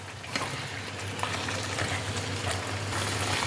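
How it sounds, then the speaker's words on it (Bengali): Fried paneer pieces tumble into well-cooked, oil-glossed masala in a pan for niramish masala paneer, giving a steady close sizzle and light bubbling hiss throughout, with no talking. "এবার আমি এর মধ্যে দিয়ে দিচ্ছি ভেজে রাখা পনির"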